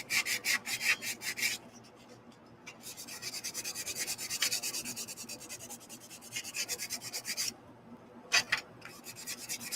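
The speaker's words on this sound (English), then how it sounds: "I like how this ABS sands so nice and easy." ABS plastic sanded by hand outdoors on a calm, mild day, giving close, steady rhythmic scraping strokes that stop briefly and resume in bursts.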